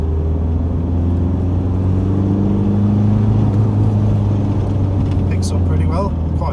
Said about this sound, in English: Picks up pretty well. Quite a torquey engine.